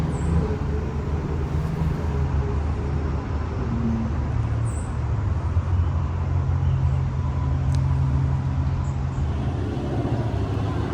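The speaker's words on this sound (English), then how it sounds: "you can really hear the auto traffic" Steady roadway noise from passing cars near a churchyard in Richland County, South Carolina, a continuous low rumble holding evenly throughout with no one speaking.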